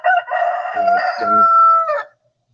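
A single rooster gives one loud, close, drawn-out crow that rises and holds before cutting off, followed by silence.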